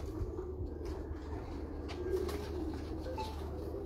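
Pigeons coo softly and steadily at close range, with faint chirps and light rustling in the background and no talk.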